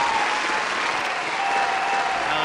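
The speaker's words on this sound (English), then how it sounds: "Let me get another round of applause for that." Steady applause from a crowd at a talk or show, a dense continuous clatter of clapping hands held at even loudness throughout.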